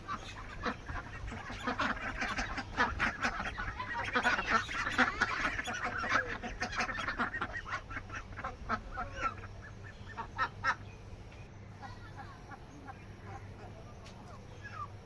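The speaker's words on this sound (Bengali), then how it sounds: "হাঁসগুলো তাদের জায়গাতেই বেরোবার জন্য ছটফট করছে।" Caged ducks at a pond-side landing in the Sundarbans quack and honk restlessly, a busy overlapping chorus of calls that swells in the middle and thins toward the end, with voices mixed in.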